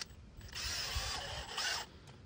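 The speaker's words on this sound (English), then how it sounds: "I like to pre-drill these holes." A power drill pre-drills holes into a wooden board for a garden build, its motor whining in two close, loud bursts with a brief dip in between.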